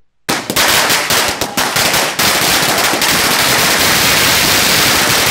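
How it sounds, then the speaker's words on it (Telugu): Firecrackers burst at a street celebration in Ambedkar Chowrasta square, a loud, close barrage of rapid popping and cracking that runs almost without a break after a sharp start. "అంబేద్కర్ చౌరస్తాలో టపాకాయలు కాల్చి తమ ఆనందాన్ని వ్యక్తం చేశారు"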